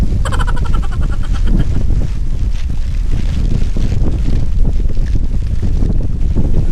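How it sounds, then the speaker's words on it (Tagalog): Strong wind roars continuously against the microphone, a heavy buffeting rumble with rushing noise, steady and loud throughout with no talking. "lakas ng hangin."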